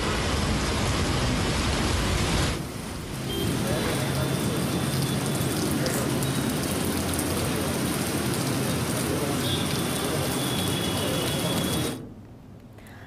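Heavy rain falls over Hyderabad, a dense, steady roar that dips briefly early on and then carries on loud and unbroken before cutting off near the end.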